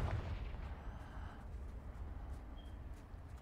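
A Confringo fire spell from Hogwarts Legacy erupts as a booming explosion at the start, then decays into a low rumbling roar with crackling debris, fairly quiet overall.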